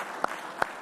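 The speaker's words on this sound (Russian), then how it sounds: "Аплодисментами стоя сегодня приветствовали единственного татарстанского оставшегося в живых героя Советского Союза Бориса Кузнецова" Standing audience clapping at a ceremony honoring the last surviving Hero of the Soviet Union from Tatarstan, a brief burst with two sharper claps audible over a soft wash of applause.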